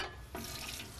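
Cold water streams from a kitchen tap over freshly cooked food, a faint, steady hiss and splash for about a second with no voices.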